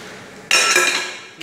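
Chocolate cake batter being whisked in a bowl, a sudden burst of rapid metal-on-bowl clattering that rings bright and close for about a second before stopping.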